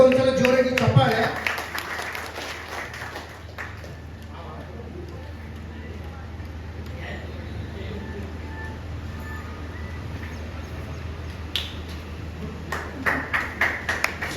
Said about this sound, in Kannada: ಎಲ್ಲರೂ ಒಂದ್ಸಲ ಜೋರಾಗಿ ಚಪ್ಪಾಳೆ